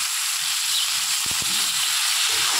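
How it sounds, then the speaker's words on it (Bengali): Eggplant hits hot oil in a frying pan with potatoes for a katla fish curry, setting off a steady, loud sizzle with a couple of brief sharp clatters partway through. "এবার এর মধ্যে অ্যাড করে দেবো বেগুন।"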